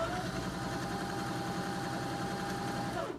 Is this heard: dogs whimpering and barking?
no